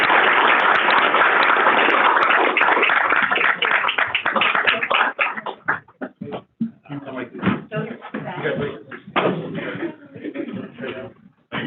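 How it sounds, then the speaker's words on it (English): Audience applause at a board of education meeting: several seconds of steady, dense clapping from a room of people that thins out into scattered claps as talking begins. "let's give them a round of applause"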